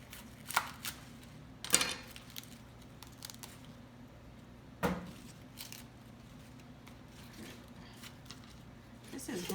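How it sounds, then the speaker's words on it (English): Knife cutting the tough center rib out of a large kale leaf on a board, a few scattered quiet chops and scrapes, faint and close, with a voice speaking in between. "we're just gonna chop that rib out"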